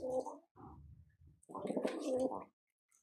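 Cooing from white-eyed pigeons of the Jannu breed, a few low throaty coos in two bursts with a short pause, close by and fairly quiet, with no talking.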